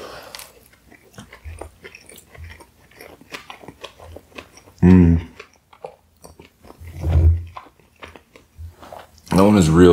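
Close, loud bites into a black dragon sushi roll (a California roll wrapped in cooked shrimp, eel and avocado), producing chewing and crunching in bursts that come between stretches of talking.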